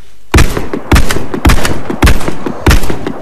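A Saiga shortened-barrel shotgun in the Warface video game fires in rapid succession, about six loud, booming blasts at a steady pace with short echoing tails, close and alone.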